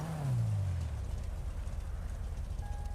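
An old muscle car engine in a video game idles with a low, steady rumble, a deeper roar sweeping downward at the start before settling into a rough, continuous drone.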